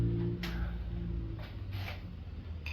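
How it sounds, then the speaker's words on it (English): A metal file is stroked across a hardened knife blade to test its hardness, giving several short, hissing scrapes at uneven intervals over a low background hum with no talk. "I'm going to see if the file skates."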